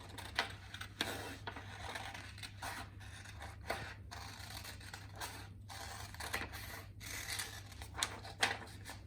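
Scissors snipping through paper to cut out a Santa beard for an advent calendar craft, a series of faint, close, irregular crisp cuts with no talking.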